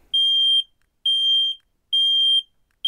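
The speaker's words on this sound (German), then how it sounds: "Das Alarmsignal hat 85 Dezibel und klingt so." A shrill 85-decibel smoke detector alarm, an Elro RM144C, beeps in a steady repeating pattern, each tone lasting about half a second with short silent gaps between.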